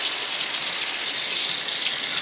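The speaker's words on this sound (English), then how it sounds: "turn on the hot water and see how long it takes for it to get hot from the circulating line" Hot water gushes steadily from a household tap fed by a circulating hot water line, a close, loud, even hiss with no voices.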